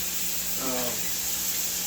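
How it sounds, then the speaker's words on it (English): A steady, loud hiss of olive oil spray onto a grill fills the whole clip, with a brief tonal murmur partway through. "Olive oil spray."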